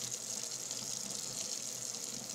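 A kitchen tap runs steadily into warm water for coffee, giving a continuous hiss and splash close by without talk.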